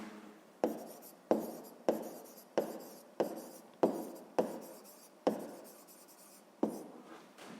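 Pen writing by hand on paper during a sixth-grade maths exercise, with about ten sharp strokes in an even rhythm, each ending in a short scratch, close and clear with no voices.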